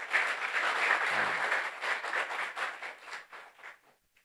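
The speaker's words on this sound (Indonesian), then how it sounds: "Mari kita muliakan Tuhan dengan tepuk tangan." A church congregation claps to glorify God during a sermon, a brisk round of many hands that stays strong for about two seconds, then thins into scattered claps and dies away.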